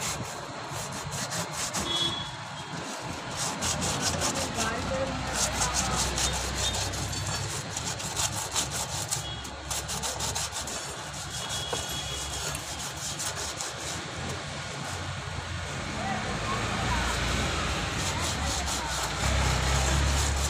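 Sandpaper rubbed against a tubeless tyre to roughen it for a puncture repair, a continuous scratchy rasping at close range that runs the whole time, with faint talk in the background.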